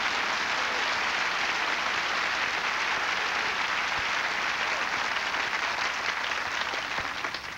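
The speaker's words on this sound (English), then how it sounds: "Give the Lord a hand clap." A church congregation bursts into sustained applause, dense hand clapping filling the room steadily from start to finish with no break.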